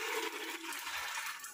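Water, about one and a half glasses, is poured into a pressure cooker holding black chickpeas, green chillies and ginger paste, making a steady close splashing gush for over a second.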